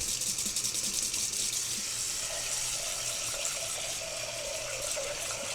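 Cold tap water gushes steadily into a saucepan holding rice, a close, continuous rushing fill whose tone rises slightly as the pan fills, with no talking.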